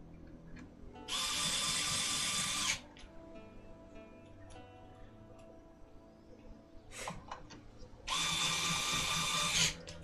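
Power screwdriver driving screws back into a fight stick casing: two separate loud whirring bursts of roughly two seconds each, with quiet handling clatter between them.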